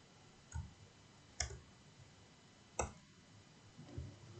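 A few sharp, isolated key clicks of a computer keyboard, spaced about a second apart, quiet and close, with faint room hiss between strikes and no voices.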